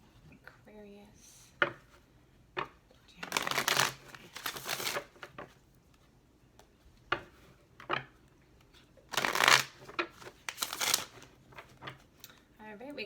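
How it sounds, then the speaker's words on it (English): A deck of tarot cards being shuffled at close range, several bursts of riffling and sliding cards separated by quieter pauses, with faint handling noises in between. "we got one more shuffle"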